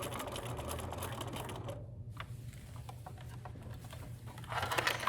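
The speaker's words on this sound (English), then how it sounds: "I'm gonna put it down. I'm gonna stitch across." A sewing machine runs steadily, stitching across a fabric-covered dog leash with a dense, rapid mechanical chatter, pausing briefly near the middle before speeding up again, close and clear.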